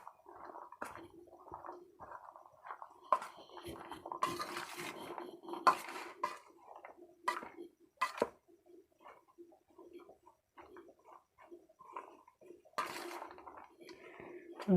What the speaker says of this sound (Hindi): और अब इनको अच्छी तरह से मिक्स कर लेती हूँ।